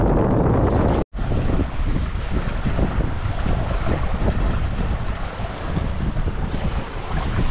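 A sailboat steered by a Hydrovane self-steering vane runs under sail in strong wind, with steady wind buffeting and rushing water against the hull throughout, loud and continuous, with a brief dropout near the start.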